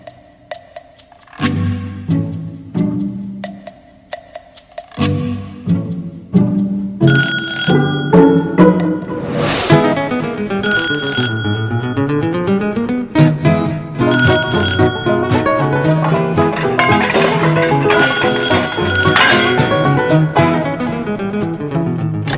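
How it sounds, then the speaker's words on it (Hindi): Electronic doorbell chimes ring over and over without pause, loud and layered into a continuous jangling melody of bell tones. "हम लोग घंटी पे घंटियां बजाई जा रहे हैं"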